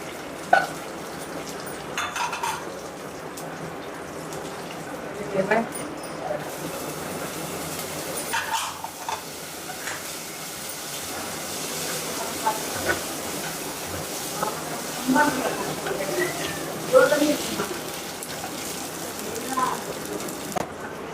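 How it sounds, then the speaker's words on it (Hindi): Almonds fry in ghee in a pan for caramel vermicelli, giving off a soft, steady sizzle and hiss while someone talks over it. "ये मैं बादाम डाल रही हूँ, थोड़ा सा फ्राई करूँगी।"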